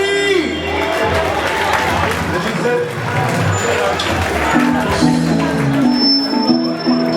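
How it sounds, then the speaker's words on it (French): Audience at an AEJJR anniversary gala cheers and applauds loudly and continuously, with tonal music and voices mixed into the crowd noise. "donnez un applaudissement"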